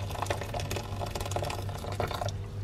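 Water poured or running for cooking jjapaghetti noodles in a home kitchen, a steady liquid rush with a low hum beneath, mid-distance and fairly quiet.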